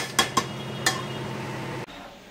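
A utensil stirs pulao in a pot, giving three sharp metallic clinks early on over a steady low scraping that then stops abruptly. It is close and alone, with no voices.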